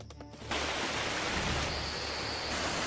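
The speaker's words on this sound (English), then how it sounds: "The rain comes like a blessing from nature." Steady rain falls in a forest around a log cabin, a dense, even hiss that starts abruptly and holds loud and continuous throughout, with no voices.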